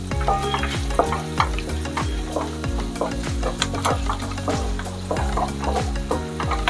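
Sliced onions frying in oil in a pan while being stirred, a loud continuous sizzle broken by repeated rhythmic scraping strokes of a spoon against the pan, close and alone.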